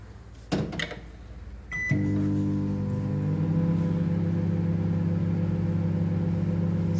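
A microwave oven runs with a steady loud hum while heating and melting soap base, starting after a couple of thuds from the door closing and controls being set, then droning on evenly alone.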